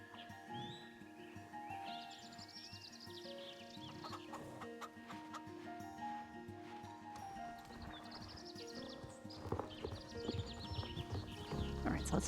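Chickens cluck in the video game Star Stable Online, mixed with clip-clopping horse hooves and a whinny over steady game music, with some voice activity, the sounds building slightly louder toward the end.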